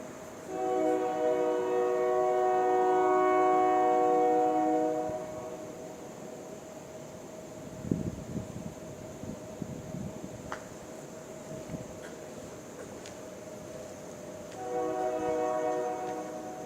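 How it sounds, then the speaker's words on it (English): A Union Pacific Railroad train horn sounds in long sustained harmonic blasts at the start and again near the end, separated by a quieter rumbling stretch with a few scattered thumps. "Union Pacific Railroad train, that's amplification."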